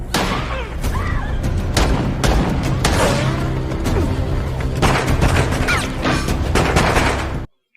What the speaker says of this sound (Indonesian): terjadilah tembak-menembak di antara mereka.